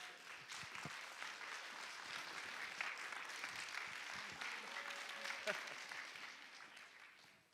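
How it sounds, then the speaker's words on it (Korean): A church congregation claps to welcome its elder pastor at a prayer service, a low, distant wash of applause with scattered claps and murmuring voices underneath, sustained for several seconds before tapering off. "이 시간에 원로 목사님 나오시더니 큰 박수로 환영해 주시면 감사하겠습니다."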